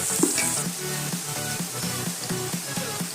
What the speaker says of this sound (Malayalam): ഇനി ഇതിലേക്ക് ഇഞ്ചി വെളുത്തുള്ളി പേസ്റ്റ് ഇട്ട് കൊടുക്കാം.